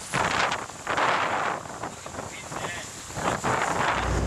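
Strong gusting wind buffets a sailboat at sea in bad weather, roaring in waves across the whole stretch, loud and close against the microphone.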